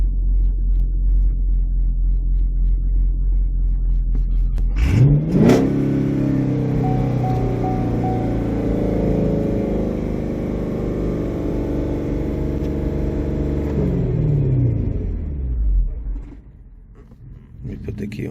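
A 2017 Chevy Camaro's engine idles with a steady low rumble, swelling into a loud rev around the middle that holds, then settles back down; fan-like hum and nearby talk run alongside.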